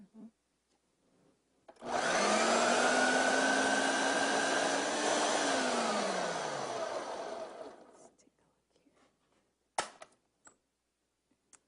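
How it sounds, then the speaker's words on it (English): A food processor blends energy bite ingredients in one loud, steady whir of about six seconds. Its pitch drops near the end as it slows, and it stops abruptly, followed by quiet handling noises and a sharp click. "we're going to blend that all together here in our food processor until everything comes together"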